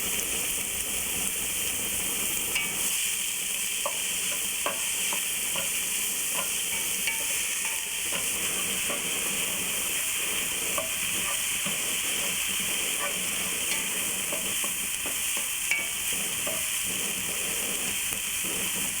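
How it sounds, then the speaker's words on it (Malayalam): Chopped onion sautéing with salt in a pan for butter chicken, a steady close sizzle and hiss running throughout with light scattered clicks of stirring, no voices. "ഇതിലോട്ട് നമ്മൾ കട്ട് ചെയ്ത് വെച്ചിരിക്കുന്ന സവോളയും ആവശ്യത്തിന് ഉപ്പും ഇട്ട് വഴറ്റുക"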